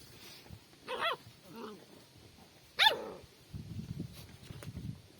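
Gordon setter puppies let out a couple of sharp, brief yips and barks, with quieter whimpering sounds and low background talk in between.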